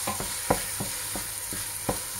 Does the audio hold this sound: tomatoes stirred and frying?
yes